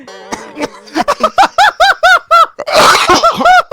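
A string of sharp, rapid coughs comes close and loud, each burst abrupt, with a brief vocal sound before them and a rougher fit near the end.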